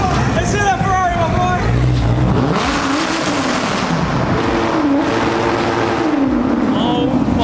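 Loud Toyota Supra engine revs hard at a car meet, rising and falling pitch sweeps close by over a busy crowd with voices and shouting throughout.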